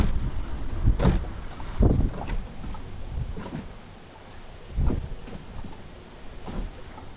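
Wind gusts around a yacht moored at a quay on Lake Jeziorak in rainy weather, with repeated soft thumps and knocks of the rocking boat standing out over a steady low rush, no voices.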